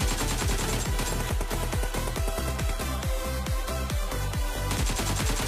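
Rapid gunfire from a PUBG battle at the Pochinki compound: repeated sharp, loud reports in a steady rhythm of roughly two per second, continuing without pause and with no talk over them.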